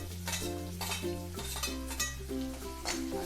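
Chopped onion goes into a pan where garlic has been frying until reddish, giving a steady sizzle with stirring scrapes and light clinks of a utensil against the pan, close, with a tonal hum underneath and no talking.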